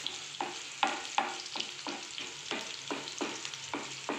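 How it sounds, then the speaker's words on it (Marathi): Chopped onions sauté in a pan until reddish, stirred in regular strokes that scrape and rattle about twice a second over a steady low sizzle, close and moderately quiet. "कांद्याला आपल्याला लालसर होईपर्यंत परतायचं"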